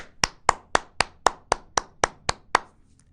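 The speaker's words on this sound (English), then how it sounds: "Let us clap." Ten sharp hand claps in a steady, even rhythm, close and loud, from a primary school class clapping for their parents during a science lesson.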